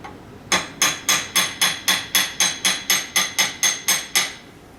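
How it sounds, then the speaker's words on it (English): A hammer taps a wire head pin for earrings in about fourteen even, sharp metallic strikes, close and clear with steady rhythm and no talking. "we're going to take our hammer and we're just going to gently give it a whack"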